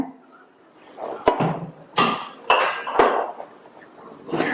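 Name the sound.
mixing drumstick leaves batter with salt in bowl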